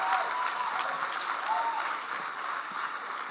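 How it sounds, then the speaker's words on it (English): Audience applause for Governor Jay Inslee at a Democratic primary forum, a dense steady round of clapping filling the whole stretch, with faint crowd voices underneath. "Give it up for Governor Jay Inslee,"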